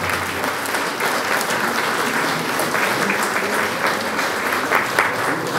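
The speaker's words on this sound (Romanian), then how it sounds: "Haideți să o aplaudăm." A crowd at a Christmas show in Dărmănești gives sustained, steady applause for a nun, dense clapping holding at a constant level throughout.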